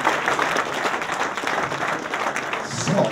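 A congregation at a charismatic church deliverance service in Bonn applauds and cheers continuously, a dense wash of clapping with voices mixed in that swells slightly toward the end.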